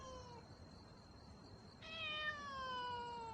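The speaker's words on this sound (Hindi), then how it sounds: "मैंने अंदर बिल्ली की आवाज सुनी।" A cat inside a house gives two distinct meows, the second longer and rising, set against a faint, steady background hiss.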